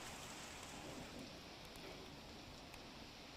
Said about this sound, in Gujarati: ભર ઉનાળે ભારે પવન સાથે જોરદાર વરસાદ